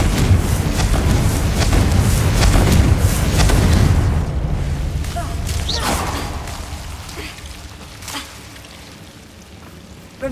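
A Confringo spell blast erupts into a loud, rumbling explosion with crackling debris, sustained for several seconds before fading into scattered rattles and a faint rain-like patter.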